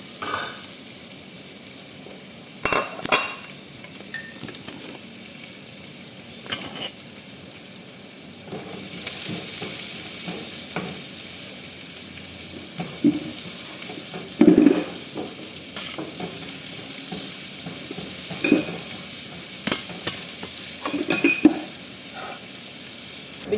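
Small pieces of chopped red onion fry in hot oil, giving a continuous sizzle that swells louder partway through, broken by scattered scraping stirs of a spoon in the pan.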